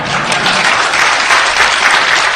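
Steady, dense applause from an audience at a political forum on progressive movements, a close, loud wash of many hands clapping without a break.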